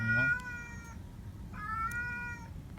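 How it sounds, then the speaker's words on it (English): A cat meows twice, two drawn-out, tonal cries a second apart, fairly close over a quiet background. "the cat doesn't want to stop"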